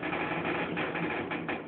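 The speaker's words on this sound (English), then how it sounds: "this elevator creaks" Schindler 300A hydraulic elevator cab creaking as it runs, a continuous loud mechanical hum with rhythmic creaking pulses repeating through the ride.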